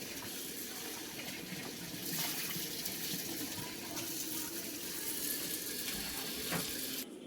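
Water runs steadily from a tap while fish is cleaned and rinsed with salt for an Andhra-style fish curry, a continuous close splashing gush with no speech.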